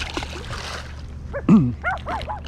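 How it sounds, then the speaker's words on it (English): A dog barks at a fisherman on the dam at Castaic Lake, giving a few sharp, close barks and yips in quick succession, with faint water splashing as a smallmouth bass is released. "I'll let this little smallie go while this dog barks at me."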